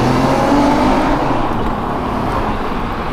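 A car drives through a tunnel in second gear, its engine droning steadily and loudly with a reverberant road roar throughout.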